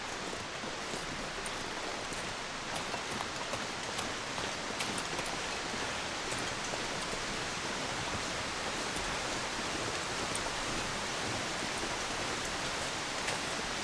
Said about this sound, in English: I don't know what it is about the sound of a waterfall or waves on the beach